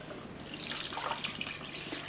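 Cold water runs steadily from a tap into a vessel for washing homemade butter, a soft continuous splashing trickle, close and alone without speech.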